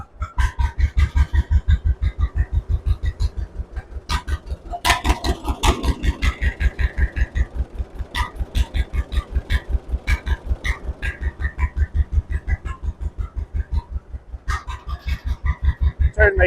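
A John Deere AO tractor engine runs steadily in a shop, its loud, even low thumping pulse carrying on throughout with no one speaking, while sharp clicks and clatter break through now and then.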